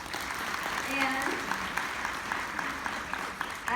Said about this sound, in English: So a round of applause for her too, please.